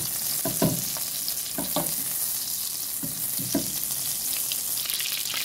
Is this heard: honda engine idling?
no